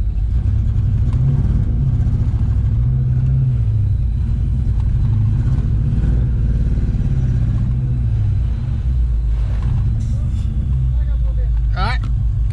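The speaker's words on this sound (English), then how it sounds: "It's actually idling. It's idling pretty decent." Older car engine idling during a first inspection, a steady low rumble with a fairly even rhythm close by, a faint whine near the end.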